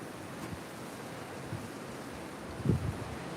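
Blizzard wind in North Dakota roars as a steady broadband rush, with a brief louder gust swelling near the end.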